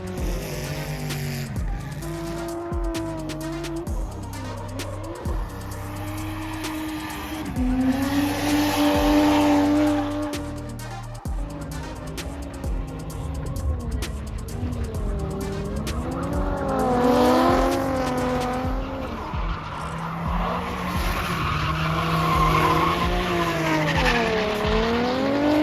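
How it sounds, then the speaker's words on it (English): JDM cars tandem drifting at a Fuel Fest event in Arizona, several engines revving and rising and falling in pitch with long bursts of squealing tires, loud and sustained, with turbo whistles over the roar. "Here we go with the tandem drifting again."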